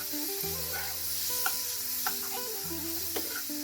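Spices fry over a low flame in a pan after a splash of water, giving a steady, close sizzle, with a few soft scrapes as they are stirred and a steady hum underneath.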